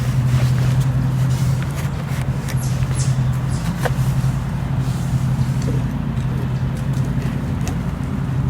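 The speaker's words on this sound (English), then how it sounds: "I'm usually able to start this with about one pull here, 1 to 2" A Makita 4-cycle leaf blower engine runs steadily at a loud, close, constant drone with a throbbing low hum and no break throughout.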